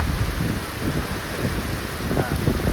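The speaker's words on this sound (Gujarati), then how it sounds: "વરસાદ ચાલુ થઈ ગયો એવો" Heavy downpour pounding steadily on a farm field, a dense continuous hiss with low rumbling, loud and close throughout with no pauses.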